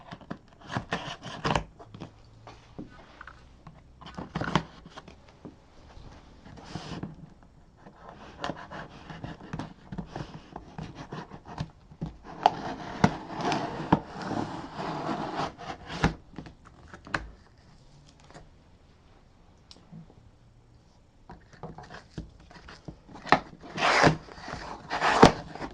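A knife or blade rasps and scrapes through the packaging of an MSI GE63 Raider gaming laptop box. The sound comes in irregular bursts of rubbing and cutting, close by and fairly quiet, with pauses between the strokes.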